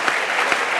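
A studio audience at a comedy show bursts into brief, loud, steady applause, a short wash of clapping with no voices standing out.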